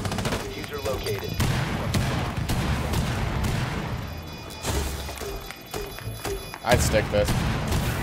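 Fuze cluster charges in Rainbow Six Siege go off as a rapid chain of sharp, loud blasts with crackling debris, mixed with gunfire, while a voice talks briefly over them.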